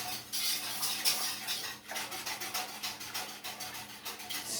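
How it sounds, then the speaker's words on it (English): Potato soup stirred in a pot with a utensil, giving continuous scraping and clinking against the metal in a steady rhythm, close and fairly quiet. "I'm just going to stir that all up in there."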